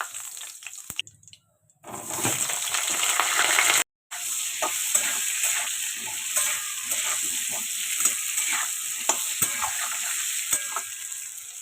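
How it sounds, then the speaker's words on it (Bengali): Hilsa fish frying in a pan, a steady close sizzle with light scraping and stirring, briefly interrupted twice by short gaps. "এখানে ইলিশ মাছটা বসিয়ে দিয়েছি"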